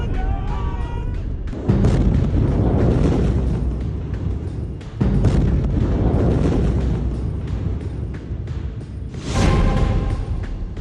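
Explosions in Beirut, with heavy low booms and rumbling blasts arriving in several surges over a long, dense roar, loud and chaotic, with voices partly mixed in.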